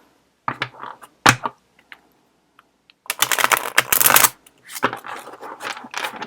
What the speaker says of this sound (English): we will go ahead and give the cards a shuffle